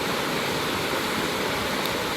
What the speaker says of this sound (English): I'm gonna maybe move away from the beautiful flowing water, just a little bit further away